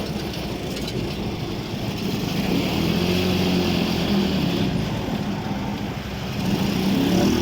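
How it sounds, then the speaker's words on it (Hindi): Steady engine rumble and road noise from inside a moving car, a continuous low drone with no talking. "गाड़ी का शोर भी है, आपको सुनाई दे रहा होगा।"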